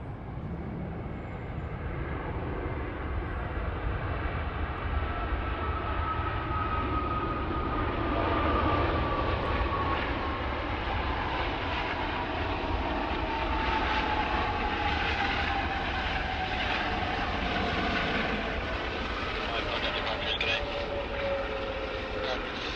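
A Qantas airliner landing on runway 16 right at Sydney Airport produces a long, steady engine roar with a slowly falling whine, loud and continuous throughout, with faint radio chatter beneath.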